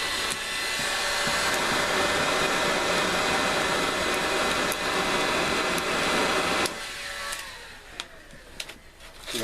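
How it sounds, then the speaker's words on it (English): A heat gun blows steadily and loudly at close range for several seconds, used while lighting a homemade wood-burning gas stove, then cuts off, leaving faint clicks and rustling. "Good old heat gun."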